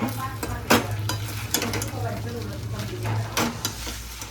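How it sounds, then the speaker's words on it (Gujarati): Cooked rice with Maggi masala is stirred in a sizzling pan, with a steady fry hiss broken by sharp scrapes and taps of a utensil against the metal. "આ ભાત મેં છૂટા કરી નાખ્યા છે એને નાખી દઈએ થોડોક એમાં મેગી મસાલો નાખીશું ને અને મિક્સ કરી નાખશું"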